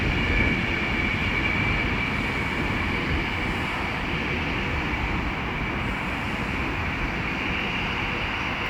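Class 390 Pendolino 390-039 'Lady Godiva' passes through Milton Keynes Central station on the West Coast Main Line, a steady loud broadband roar with a high whine holding throughout, no voices.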